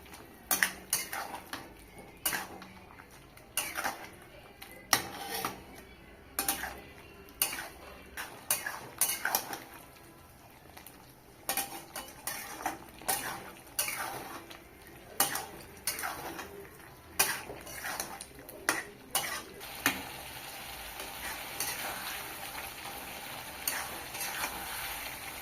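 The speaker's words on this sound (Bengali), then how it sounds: "ভালোভাবে কষিয়ে নেব।" Chicken gizzard cooks down with ground coriander, cumin, spice paste, tomato, coriander leaves and green chilli in a pan. Repeated spatula scrapes and clinks sound against the pan over a soft sizzle, with an irregular stirring rhythm and no talking.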